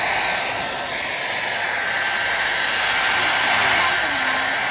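A hair dryer on its cool setting blows on a child's hair, a steady, loud whooshing motor hum that stays even throughout with no voices.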